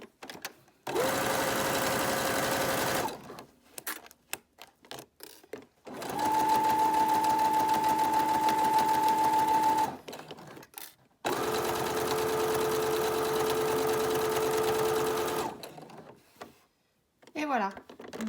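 Sewing machine stitching a zipper onto fabric, with three long bursts of rapid mechanical whirring and clatter, each running several seconds, separated by short quiet pauses with small clicks.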